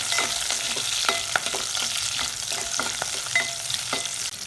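Green chillies sizzle and crackle in hot oil in a pan, a steady close frying hiss with small pops scattered throughout.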